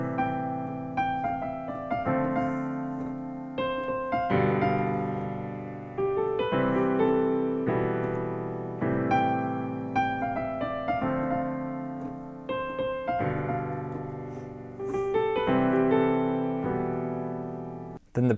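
Solo piano plays the verse melody of a pop song in an easy arrangement, clear close notes in short phrases over sustained chords, with no talking.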